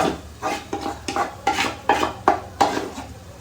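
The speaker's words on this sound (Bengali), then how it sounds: "তেলটা গরম হয়ে গেছে, এর মধ্যে ছোলার ডালের পেস্টটা দিয়ে দিলাম।" Chana dal paste stirred in hot oil in a pan, about eight regular scraping strokes of a utensil against the metal with a faint sizzle underneath, close and distinct.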